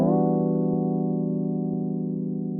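A sustained chord held with bass underneath, a steady droning harmonic tone ringing evenly and slowly fading, clean and close with no talking.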